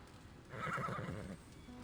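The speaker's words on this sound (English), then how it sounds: "A black war horse trots over from down the street" A black war horse from the game Reverse: 1999 lets out one loud, close whinny that lasts about a second, with a faint clopping of hooves beneath it and no talking.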